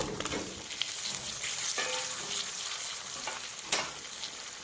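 Spice paste with chilli powder being fried in a pan along with pre-fried potatoes for a Bengali bata fish curry, a steady close sizzle broken by a few sharper scraping stirs, with no talk.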